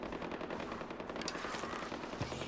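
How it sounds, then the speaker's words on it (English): Rapid bursts of machine-gun fire crackle continuously in the video game Far Cry 4, loud and close, with overlapping shots and no talking. "I hear a lot of gunfire."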